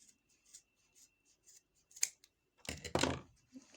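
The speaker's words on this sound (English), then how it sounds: "here I'm going to trim these ends to finish off." Scissors snip the yarn ends of a crochet tassel, with a series of soft, close cuts followed by a louder, longer crunching trim near the end, heard alone without talk.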